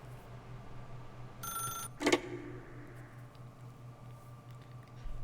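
In The Stanley Parable video game, a telephone rings in a short electronic trill. A single sharp click or knock follows, all over a steady low hum in an otherwise quiet room.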